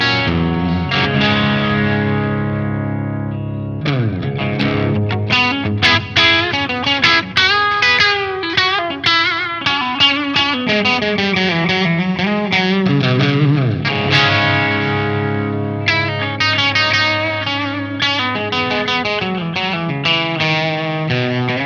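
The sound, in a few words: electric guitar through EVH 5150 III Stealth amp, channel 1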